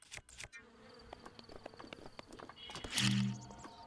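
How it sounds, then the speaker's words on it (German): Bees buzz in Zelda: Breath of the Wild, a thin insect drone among soft game effects, swelling briefly near the end. "Oh, da sind Bienen."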